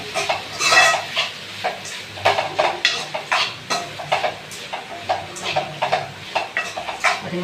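Bottle gourd stirred in a pan over a low flame, the spoon scraping and clinking against the metal in a steady rhythm of short, close strokes over a faint sizzle.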